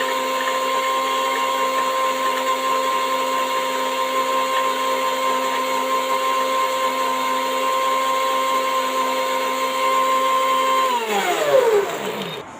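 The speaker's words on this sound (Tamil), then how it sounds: "நான் மிக்சியில் வந்து உங்களுக்கு அரைச்சிட்டு காட்டுறேன்" A kitchen mixer grinder whirs at a high, steady pitch while blending an Oreo biscuit milkshake, loud and close, then spins down with a falling whine as it is switched off near the end.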